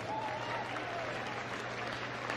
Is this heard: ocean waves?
no